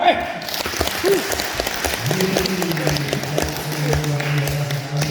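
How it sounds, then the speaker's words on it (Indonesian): An audience claps together at an event in a villa in Bedugul, Bali, a lively burst of close applause with scattered sharp claps and a voice talking over it. "Tepuk tangan, yo"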